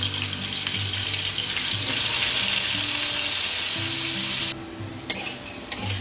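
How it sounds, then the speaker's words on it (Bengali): Potatoes fry in oil with a loud, steady sizzle close by. The sizzle cuts off abruptly near the end, followed by a couple of sharp utensil clinks. "ওই তেলের মধ্যে আলুটা ভেজে নেব।"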